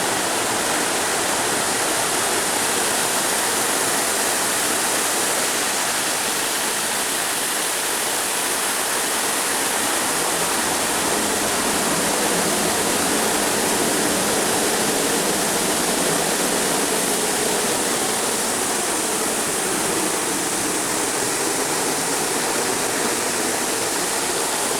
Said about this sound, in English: How about we take a walk through the Bonfante Falls?